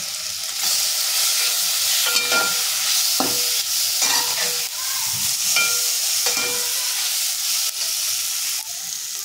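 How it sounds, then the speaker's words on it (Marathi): Onion with turmeric and masala sautéing in a pan, a steady close sizzle with occasional stirring scrapes and spoon knocks, no voices. "ह्याच्यामध्ये आपण हळद टाकून घेऊयात, 1 चमचा मसाला टाकूयात आणि हे छान आपल्याला परतून घ्यायचे।"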